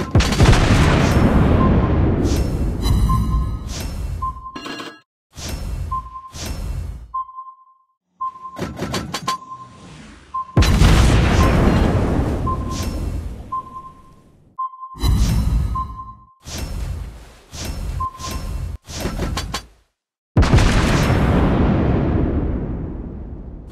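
Torpedo explosions and heavy booms in the naval game World of Warships Blitz, during a battle with a Tier 4 Italian cruiser. The blasts are loud, with long decaying rumbles, interrupted bursts and a recurring beeping alarm tone.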